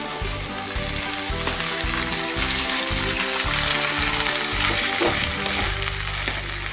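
Shrimp sizzling in a hot pan while cooking sambal tempoyak, a dense, continuous crackling fry with occasional stirring, close and steady throughout without speech.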